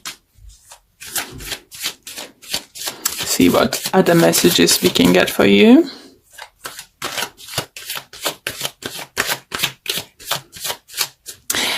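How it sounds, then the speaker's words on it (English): Tarot cards being pulled and shuffled, a soft papery rubbing and riffling that swells in the middle of the stretch, with a voice talking throughout. "Okay, let's pull a few additional cards."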